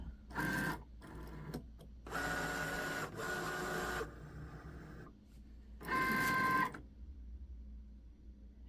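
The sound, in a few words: Cricut machine loading a sticker sheet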